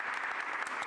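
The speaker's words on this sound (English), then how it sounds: "Give them a round of applause." Audience applause for the Comcast and Sixers partners at a Philadelphia civic announcement about the Market East corridor; a steady, dense wash of many hands clapping, filling the brief moment without any voices.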